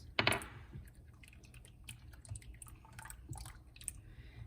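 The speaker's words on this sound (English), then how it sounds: "We're gonna pour in half of our lemon" Lemon juice poured into heating milk to make ricotta gives a brief soft splash near the start, followed by faint dripping and light stirring sounds in a quiet kitchen.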